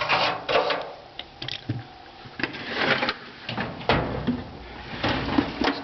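Metal tool box drawers holding hammers and dollies slide open and shut, giving a run of rattling rolls and clacks at close range with uneven, fairly quiet bursts.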